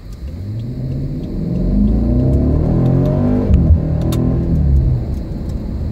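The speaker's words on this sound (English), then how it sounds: "I just clicked and you probably just heard the engine downshift a little bit." A 2015 BMW 750i engine rumbles and revs as it downshifts through manual paddle shifters, a close, steady drone whose pitch shifts midway, with a few faint clicks.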